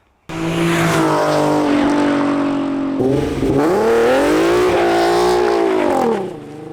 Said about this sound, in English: A lot of people don't like the VQ engine sound.